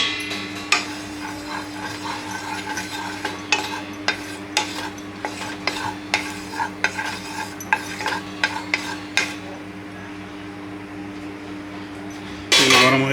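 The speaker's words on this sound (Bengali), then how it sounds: "ওই মশলাগুলো একটু ভেজে নিব হালকা করে, অল্প তেল দিয়ে দিলাম।" Spices and chopped ingredients lightly frying in a little hot mustard oil for a prawn and milk curry, heard as a steady stream of close, sharp clinks and scrapes of a utensil against the pan over a low background hum, then a louder clatter at the end.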